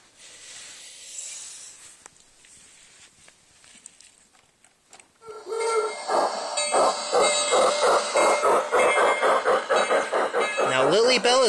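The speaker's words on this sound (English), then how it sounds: "Now Lilly Belle is going to be coming down the track with a smokey stack" A Bachmann Lilly Belle Disney replica model train starts up on its track, quiet at first, then a loud rhythmic chuffing with hissing steam effects that keeps a steady beat to the end.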